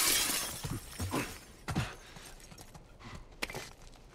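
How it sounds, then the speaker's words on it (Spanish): Glass shatters in The Last of Us with a sharp crash, then scattered tinkling shards fall and clink for several seconds at moderate volume, with no voices. "Me gusta romper vidrios."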